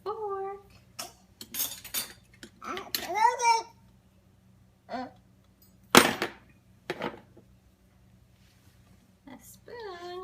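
Cutlery and dishes clink in short, scattered bursts as spoons and forks are lifted out of a home dishwasher, mixed with a voice and an adult talking nearby.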